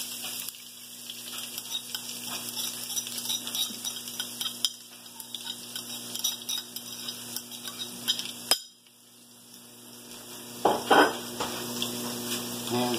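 Garlic and ginger fry in a hot pan while cooking chicken masala, giving a steady soft sizzle and crackle with occasional clinks of a utensil and a brief pause before the sizzling picks up again.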